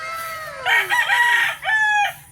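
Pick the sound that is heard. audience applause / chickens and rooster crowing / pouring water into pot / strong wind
chickens and rooster crowing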